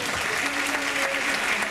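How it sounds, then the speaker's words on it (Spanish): Audience applause at an album launch, a dense continuous wash of clapping with a faint whistle or cheer tone woven through, steady and fairly loud for the whole stretch. "También quiero el aplauso también, claro."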